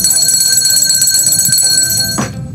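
A bright metallic bell rings on in a steady sustained tone, loud and close, then cuts off abruptly near the end, followed by a thump and background noise.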